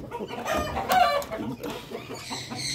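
Aseel rooster in a shed clucking and calling in short, uneven bursts, fairly close, with a few other faint farmyard sounds around it.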